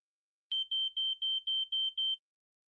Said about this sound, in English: The screen lights up and a beeping sound emits from the tablet